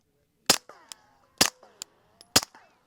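Three sharp shots from a suppressed handgun firing 158 grain ammunition, evenly spaced about a second apart, each followed by a short ringing, metallic tail and faint clatter; loud and close, with no talking.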